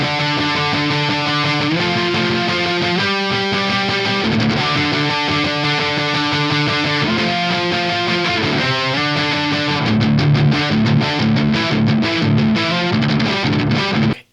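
High-gain electric guitar played through a ToneX direct capture preset, heavily distorted and loud throughout, with chugging riffs and sustained chords that end with a sudden cutoff, no voices.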